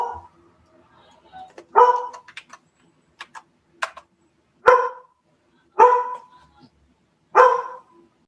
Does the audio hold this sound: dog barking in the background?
yes